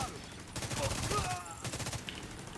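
Rapid gunfire from a shooter video game, bursts of shots landing headshots, loud and dense across the whole stretch with brief pauses between volleys.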